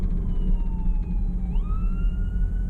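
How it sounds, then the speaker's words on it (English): A wailing ambulance siren sweeps up and down in pitch over low traffic rumble, loud and continuous as the ambulance goes by. "And we have an ambulance, all right."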